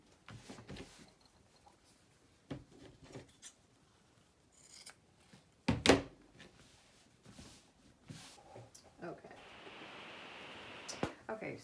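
Scissors cut through fabric while a men's shirt is upcycled into a boho duster, with repeated close snips and rustling cloth, one loud cut in the middle, and a soft hiss toward the end.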